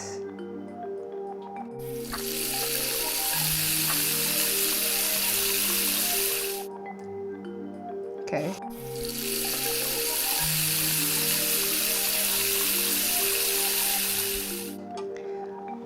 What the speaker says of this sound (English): that one to me sounded like running water of sorts